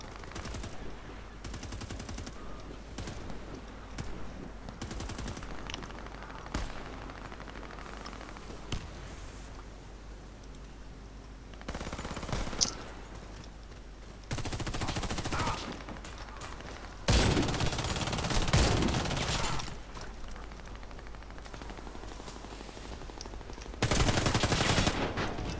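Video game gunfire crackles in rapid bursts, with short volleys around the midpoint and heavier, louder sustained fire near the end. The shots carry over a busy in-game background.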